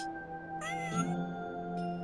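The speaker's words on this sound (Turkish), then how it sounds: "Miyavlamış." A cat meows in a single clear, drawn-out call, close and fairly quiet, with a faint second chirp near the end over a steady low hum.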